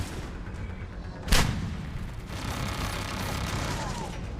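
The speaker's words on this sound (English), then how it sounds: "I'll throw another grenade that way." Grenade explosion in the video game Mass Effect 3: a single sharp blast with a rumbling tail, set against constant battle noise and background din.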